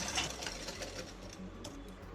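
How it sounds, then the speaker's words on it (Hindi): A sewing machine stitches folded-over blouse fabric, a fast, steady mechanical chatter of needle strokes running continuously up close with no voices. "और अब सिलाई लगा रहे हैं।"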